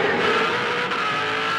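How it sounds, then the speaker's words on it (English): 2007 V8 Supercars at the Gold Coast race down the main straight: a loud, steady engine roar fills the whole stretch, with a brief dip partway through as the cars pass. "Let's keep our eyes on the Team Vodafone car and Garth Tander coming down the main straight"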